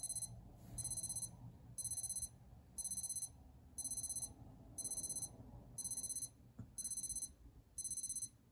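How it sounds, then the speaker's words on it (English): A Bulova Millennia Vibra-Alarm wristwatch alarm beeps in regular bursts about once a second, high and thin, with a quiet room hum underneath. "All right, now that you've heard the audio"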